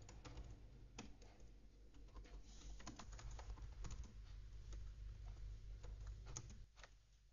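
Steady typing on a computer keyboard while writing an SQL statement, a quiet, continuous patter of close key taps with occasional louder strikes over a faint background hum.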